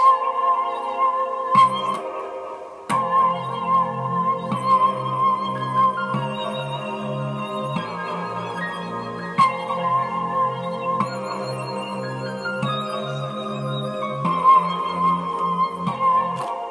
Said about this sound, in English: I laid down some notes right here with this sub bass